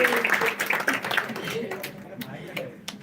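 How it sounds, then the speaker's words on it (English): Audience applause at a school face-off final, a dense patter of many hands that starts strong and thins out gradually while voices carry on underneath. "a huge round of applause for everyone who came here and participated"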